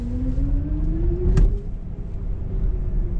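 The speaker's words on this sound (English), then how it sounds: "I'll demonstrate just a little bit of a takeoff in our normal driving mode." A 2022 BMW iX electric car pulls away in normal driving mode, its motor whine rising steadily in pitch over heavy road rumble, with a brief bump midway and no talking.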